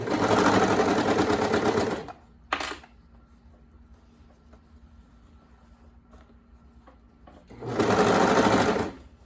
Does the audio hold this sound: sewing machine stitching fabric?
yes